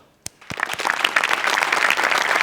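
Applause for a performance on a stage show, a few sharp scattered claps swelling quickly into steady, full audience clapping.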